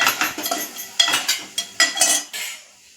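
A utensil scrapes and clinks against a pot as peanut chutney with red chili is stirred, in a quick series of close, bright metallic strokes that fade out at the end.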